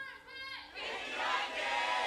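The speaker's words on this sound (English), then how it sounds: "CJ fans cheering." Packed crowd at Yongsan Esports Stadium roaring and cheering for CJ Entus at an LCK League of Legends match, a loud sustained wash of shouting voices that swells after a brief dip.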